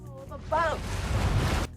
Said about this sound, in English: right as the clip cuts, we hear the crashing of the waves against the boat